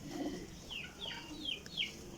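Red-eyed Kasuri pigeons coo softly several times in quick succession, fairly close and quiet, with no talking.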